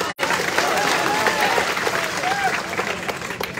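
An audience at a political rally applauds during a speech, a loud, sustained wash of many hands clapping after a brief pause at the start, with crowd noise mixed in.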